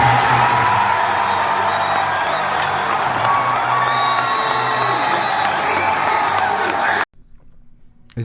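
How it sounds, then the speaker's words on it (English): A packed wrestling arena crowd erupts in loud, sustained cheering, whoops and shouting that hold at full volume for about seven seconds, then cut off abruptly into near silence. "you hear the crowd explodes for Darby Allin"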